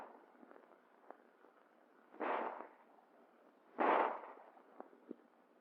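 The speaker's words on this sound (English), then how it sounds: "A burst of 2 shots assures at least 1 hit." Two loud handgun shots from Army combat firing practice ring out about a second and a half apart, each a sharp burst with a short ringing tail, over low steady background noise and a few faint clicks.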